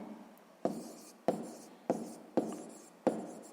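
Pen strokes on paper while writing down an answer in a sixth-grade maths lesson: five short, crisp taps and scratches at a steady pace, close and quiet, with no talk.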